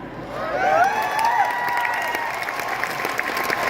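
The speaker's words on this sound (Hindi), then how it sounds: "बस ताली बजाना है दोनों हाथ उठा के, मीठा मीठा" Audience at a stage show clapping hands together in steady, dense applause with some cheering, sustained and fairly loud throughout.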